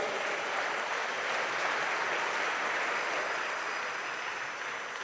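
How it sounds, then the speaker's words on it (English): Steady applause from an audience at the inauguration of a new African Export-Import Bank president, a dense, continuous wash of clapping holding at even loudness throughout with no talk over it. "may we give another round of applause"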